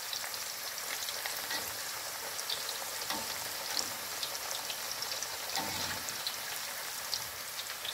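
Raw Tatar çiböreks, stuffed pastries, fry in a pan of hot vegetable oil, giving a steady, even sizzle with fine crackling pops throughout and no voices.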